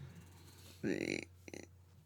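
A short, fairly loud burp erupts in a quiet room, followed by a briefer second croak.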